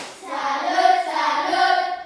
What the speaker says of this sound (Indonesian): Tepuk salut untuk Billy.